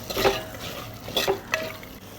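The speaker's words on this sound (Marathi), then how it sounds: "आता आपण हे व्यवस्थित मिक्स करून घेऊया" Peas and chickpeas being stirred in a pan with a spoon for a Maharashtrian mixed vegetable bhaji, three distinct scraping strokes with light sizzle between, close and moderately loud.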